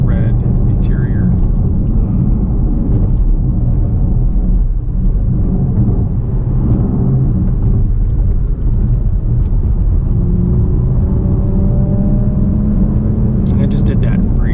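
A 2018 Porsche Macan GTS braking downhill and downshifting into a corner, a steady low engine and road rumble heard from inside the car, with a rising engine note later on.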